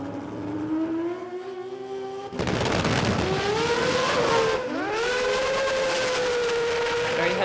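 A drag race car makes its first run at the Garrett Adelaide Jamboree, a loud engine rising in pitch, a sudden blast of power, then a long sustained high-revving whine, with commentary underneath.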